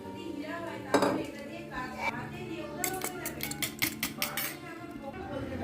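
Fried fish being mixed into a spice paste with turmeric, yogurt and tomato sauce in a home kitchen, a spoon clinking and scraping against a metal pan in repeated quick strokes, with someone talking over it.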